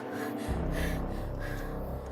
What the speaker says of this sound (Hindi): एक युवती उनकी खाट पर बैठी बुरी तरह हाँफ रही